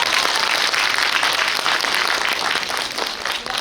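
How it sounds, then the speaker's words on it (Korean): Audience applause at a film talk event, a dense steady wash of many hands clapping that holds loud throughout before thinning slightly at the end, with no talk over it. "박수 부탁드립니다."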